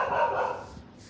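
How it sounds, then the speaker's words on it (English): Dogs bark at a distance outside during a shin-conditioning session for Muay Thai, a brief muffled burst with no talk over it. "these damn dogs, man"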